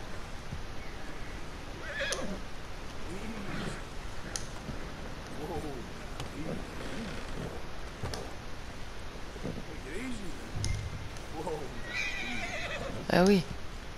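A horse neighs and whinnies in Red Dead Redemption 2, with clip-clop hooves and a light wind bed, while someone talks over the game sounds throughout.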